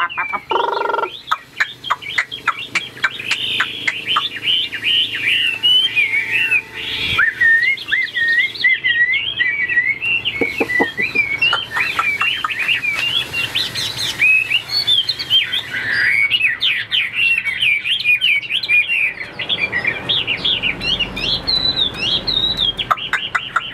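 A caged songbird sings loudly and close up, a long run of rapid warbling phrases and sharp chirps with short breaks.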